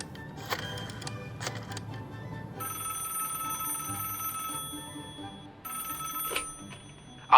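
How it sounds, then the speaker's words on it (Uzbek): A telephone rings in repeated bursts with short pauses between them, moderately quiet, over faint room noise and a few clicks, and no voices. "darhol telefonga yopishdi va politsiya uchastkasiga qo'ng'iroq qildi"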